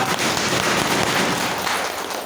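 Dense, steady clapping from a large audience at a company business presentation, loud and continuous throughout with no talking.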